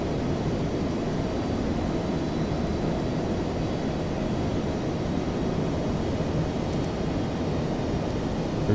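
United Airlines Boeing 757 climbing out of Newark in a flight simulator, a steady broadband engine roar and airflow hiss, constant and even in level, with no voices over it.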